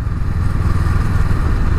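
A Honda Rebel 500 motorcycle engine idling close up with a steady low throb and slight clatter.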